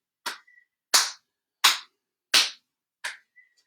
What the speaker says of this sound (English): just letting the hands clap in front and behind